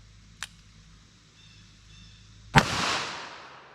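A .22 WMR Max-Mag round fired into ballistic gel: one sharp, loud crack followed by a short ringing decay outdoors, with a faint small click a couple of seconds earlier.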